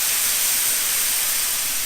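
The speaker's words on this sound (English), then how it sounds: "So I'm going to add to our pan drippings about 1/2 cup of white wine." White wine poured into a hot pan of veal drippings, giving a loud, steady, broad hiss of sizzling and steam that holds evenly without pause.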